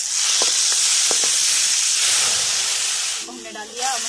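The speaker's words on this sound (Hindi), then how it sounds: "मसाले को इस तरह से चला के अब मसाले को अच्छे से हम भून लेते हैं" Masala spice paste fries and sizzles in hot oil while being stirred, a steady close hiss with a few clinks of the spoon, and the sizzle thins out toward the end.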